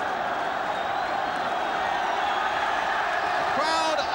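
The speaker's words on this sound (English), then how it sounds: "The crowd are giving them the sort of rapturous welcome" A football crowd at a Scotland v England Home Championship match cheers and applauds the Scotland team in a continuous, loud roar that holds steady, with a brief whistle-like rise near the end.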